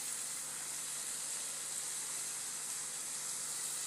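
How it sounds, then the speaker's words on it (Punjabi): A spice and onion mixture roasting in a pan over a low flame for malai kofta curry, giving a soft, steady sizzle and hiss that stays even throughout with no talking. "ਥੋੜ੍ਹੀ ਥੋੜ੍ਹੀ ਅੱਗ 'ਤੇ ਭੁੰਨਾਂਗੇ ਇਹਨੂੰ, ਜ਼ਿਆਦਾ ਨਹੀਂ ਭੁੰਨਦੇ।"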